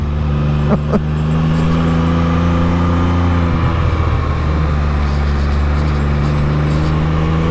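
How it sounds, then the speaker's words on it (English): A Can-Am Spyder F3-S fitted with an Akrapovič muffler rumbles loudly at close range, a steady deep engine drone that swells slightly partway through, with no voices. "Especially with that Akrapovič muffler on there."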